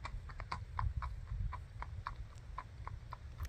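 A 5-year-old, long-legged 15'3" Tennessee Walking Horse walks along with an even, steady clip-clop of hoofbeats, several crisp strikes per second over a low rumbling background.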